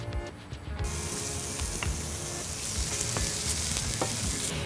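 Mushrooms sizzling and crackling in a hot pan, a dense continuous fry that starts up after a brief quieter moment, with occasional scraping stirs, close and fairly soft.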